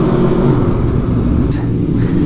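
An Aprilia Tuono Factory motorcycle engine rumbles steadily while riding, a loud, continuous low drone with no speech over it.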